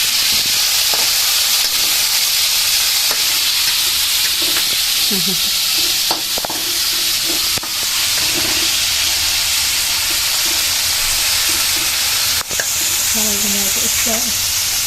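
Tomato and chili sautéing in leftover fish-frying oil, a loud, continuous close sizzle with occasional stirring clatter throughout.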